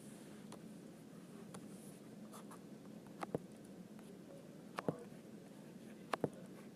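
A pen scratches out a math example by hand, soft continuous writing strokes with a few sharp taps, quiet and close in a still room.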